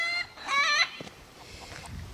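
A chicken lets out a loud squawking cluck, then softer clucks and scratching follow in a quiet yard.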